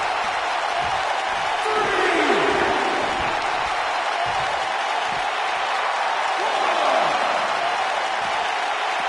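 Arena crowd at a wrestling match in the WWE 2K19 video game gives a steady, dense roar of cheering and applause that swells twice, with a voice faintly underneath.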